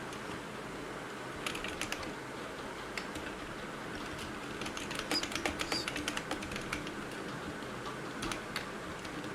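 Typing on a computer keyboard, with bursts of quick close key clicks, denser in the middle, over a quiet room hum and no talking.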